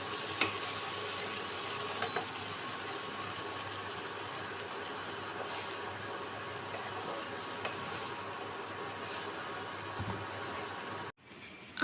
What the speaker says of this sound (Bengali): এবার আমরা হিটটাকে বন্ধ করে আরও কিছুক্ষণ এই একইভাবে নাড়াচাড়া করব যাতে মশলাগুলো গরমে ভাজা ভাজাও হয়ে যায়